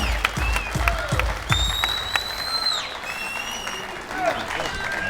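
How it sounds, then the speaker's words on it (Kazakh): Audience clapping breaks out at a team presentation for the captain, crisp scattered claps building into sustained applause in a hall, with some whistles or cheers on top. "Шапалақ қайда?"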